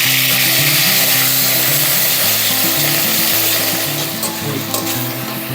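Ginger, onion, garlic and green chili paste frying in hot oil with cumin, dried chili and bay leaf, a loud, close, continuous sizzle with scraping and stirring over a steady low hum.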